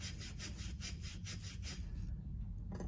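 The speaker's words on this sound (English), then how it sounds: "I have a personal Scotch-Brite pad. And you can just give it a little shine." A motorized bicycle carburetor intake scrubbed with a Scotch-Brite pad, giving steady rhythmic back-and-forth rasping strokes. Close and continuous, with a brief pause near the end.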